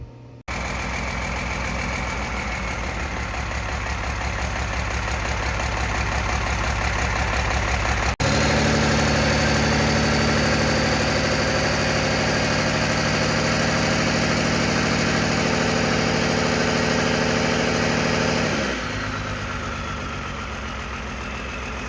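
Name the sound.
Cummins diesel engine starting and idling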